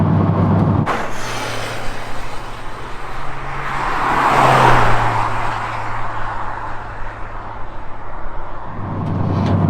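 A Honda Civic Type R FK8 drives on slick roads, its engine tone rising and falling as it accelerates past, loud and close with a brief swell in the middle, then drops back to a steady drone.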